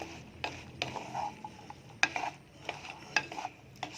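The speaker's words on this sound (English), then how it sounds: "Give a good stir." Spoon stirring tempeh in sweet sauce in a pan gives several sharp scraping clicks and knocks against the metal, irregularly spaced, fairly close and alone.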